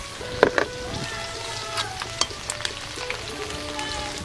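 Garlic frying in oil in a pot on a clay stove, a continuous close crackling sizzle with a few sharp pops and light stirring clinks, no talk over it.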